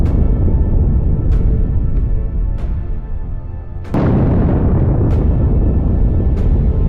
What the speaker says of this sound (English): Footage shows drones striking the enemy equipment and causing explosions.